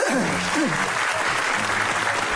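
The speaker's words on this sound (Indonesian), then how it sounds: "Boleh tepuk tangan." An audience at an Indonesian talk on YouTube monetization breaks into a burst of dense, close applause that continues steadily. A voice briefly speaks over the opening moments.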